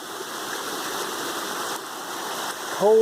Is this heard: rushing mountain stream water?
yes